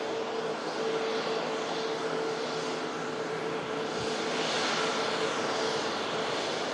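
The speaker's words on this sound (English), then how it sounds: "taxiing off the runway is a SmartLynx 737 coming in from Kos" A SmartLynx Boeing 737 taxiing off the runway after arriving from Kos, a steady distant engine roar that swells slightly toward the end, with no talk over it.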